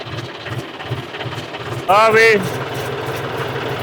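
A John Deere tractor engine runs with a steady, low pulsing rumble nearby, while a voice speaks briefly over it midway.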